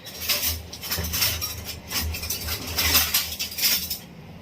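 A round ladle clinks and rattles among metal utensils, with a steady run of light, close metallic taps and jingles.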